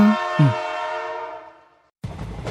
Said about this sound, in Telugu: ట్రైన్ వచ్చింది, వెళ్దాం.